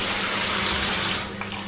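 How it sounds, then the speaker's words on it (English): A hotel shower runs with a loud, steady hiss of falling water that drops off slightly toward the end, as if the flow is turned down. "That's the shower. Shower works."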